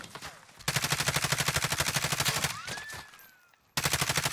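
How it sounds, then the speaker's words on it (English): Rapid automatic gunfire from Call of Duty: Warzone crackles loud and close in sustained rhythmic bursts, briefly pausing before another burst resumes. "Taking fire over here."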